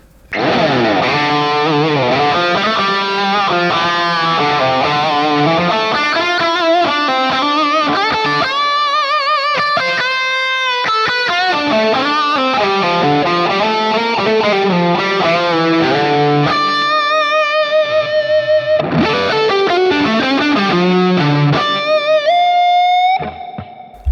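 Distorted electric guitar plays chords and single-note lines through a Hotone Ampero clone of a Marshall Silver Jubilee amp with added reverb, giving a roomy tail, loud and steady throughout.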